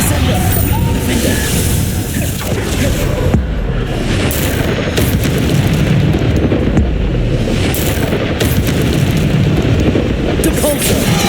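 Bombarda explosion spells in Hogwarts Legacy, a dense, loud stretch of booming blasts and rumbling combat noise running continuously with a few sharper hits, the caster's voice calling out over it.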